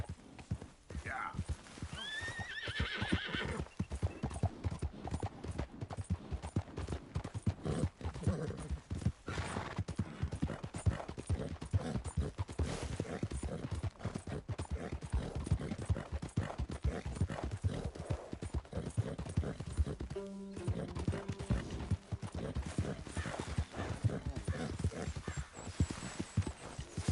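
Horse hooves clip-clop steadily in a video game, close and continuous for the whole stretch, with a brief neigh near the start and characters talking over the hoofbeats.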